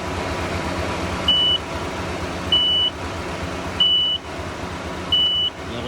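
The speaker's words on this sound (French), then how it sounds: "Je vais l'allumer. Ça va biper fort, voilà." A Bluetooth weighing box on a forestry crane grapple gives four loud, evenly spaced high beeps, each lasting about a third of a second, over a steady engine hum.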